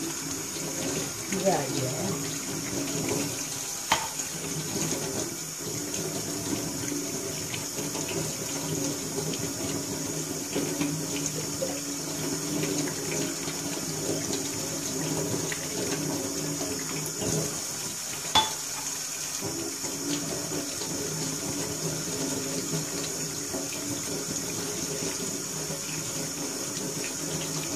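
Tap water runs steadily under a sink as something is rinsed by hand, a soft continuous splash with occasional knocks, while a voice speaks briefly over it.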